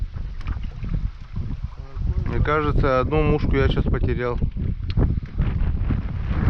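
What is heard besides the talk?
wind blowing while fishing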